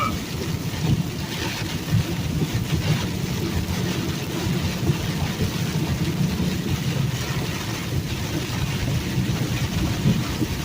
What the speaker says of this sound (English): Yep, rain has started.